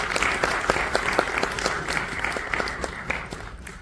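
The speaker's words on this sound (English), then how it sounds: "let's make some noise for the man who's leading with heart, purpose and pure Punjabi power, Mr. Singh." An audience claps at a Punjabi awards ceremony, a dense, steady wash of applause from a sizable crowd with a few louder individual claps standing out, and faint voices mixed in.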